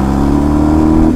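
Motorcycle engine with almost 60,000 km on it, revving close by: a loud, steady mid-pitched engine note that holds throughout a very brief moment.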